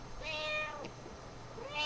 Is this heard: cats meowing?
yes